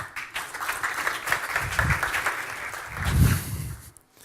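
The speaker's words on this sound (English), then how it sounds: "round of applause" An audience claps steadily at a startup competition, a dense wash of applause that swells near the end and then stops.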